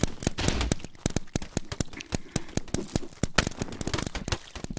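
Paintball grenades go off near a barn in a rapid string of sharp cracks and pops, dense and irregular, loud and close, with no voices.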